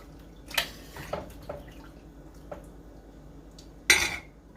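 A spoon stirring vegetable soup in a pot, with a few scattered metallic knocks and scrapes against the rim and one louder clank near the end, set against a quiet background.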